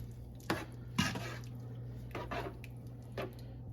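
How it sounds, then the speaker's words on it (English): A spoon scrapes and knocks through ingredients in a pot, with several soft irregular strokes and a couple of sharper clinks against the side, close and fairly quiet over a steady low hum. "So we're going to mix all this up together"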